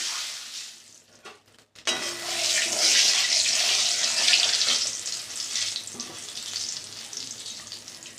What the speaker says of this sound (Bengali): দিলাম তেল, পনিরটা ভেজে নেব।